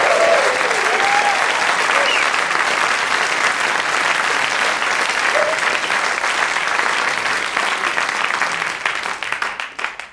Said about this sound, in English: another big round of applause for Lawrence Camley, a clever man.